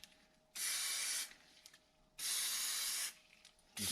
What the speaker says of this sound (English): I'm gonna go ahead and spray a little bit of this on there